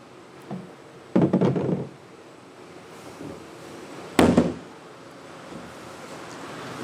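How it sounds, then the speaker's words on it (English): Two heavy sledgehammer blows land on a 28-gallon cross-linked polyethylene tank, each a sharp, resonant thump with a short rattling tail. They come a few seconds apart over faint background noise. "I would like to demonstrate today the durability and strength of these tanks by using a sledgehammer and giving them a"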